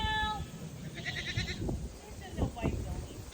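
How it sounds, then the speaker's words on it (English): Goats on a goat farm in Woodstock, Illinois, bleating in a few wavering calls at a moderate distance, with talk and outdoor background noise. "a friend's goat farm here in Woodstock, Illinois."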